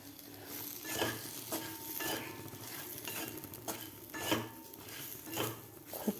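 Spicy Maharashtrian eggplant curry is stirred in a pan, with soft rhythmic scraping and clinking of a spoon against metal over a faint, low sizzle, fairly quiet throughout.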